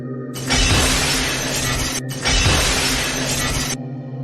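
A glass mirror is smashed with a sword, giving two long, loud crashing bursts of shattering glass separated by a brief gap. No voices are heard.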